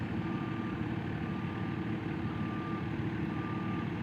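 A claw truck backing up during a roadside debris cleanup gives off a steady high beeping tone over the low rumble of a heavy idling engine, continuous and fairly distant.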